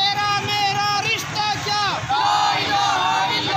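A rally crowd at a Kashmir Solidarity Day march in Minchinabad chants slogans in loud overlapping voices, rising and falling shouts with cheers carried over a busy crowd hubbub.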